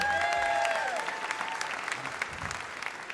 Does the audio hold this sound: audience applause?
yes